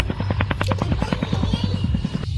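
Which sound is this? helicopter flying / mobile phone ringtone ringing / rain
helicopter flying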